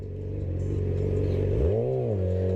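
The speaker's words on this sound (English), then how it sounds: "this is the first ride with the new exhaust installed" A motorcycle fitted with a new Leo Vince GP exhaust idles with a deep throb, then gets one sharp rev that swells and falls back, loud and close.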